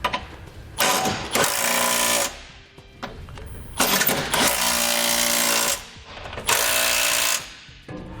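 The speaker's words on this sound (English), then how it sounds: "I'm going to come back with a 19mm socket. You can also use a 3/4 inch socket to snug up all your hardware." Power tool driving a socket to snug the bolts of a Curt trailer hitch receiver, loud close bursts of whirring and rattling repeated several times with brief pauses between them.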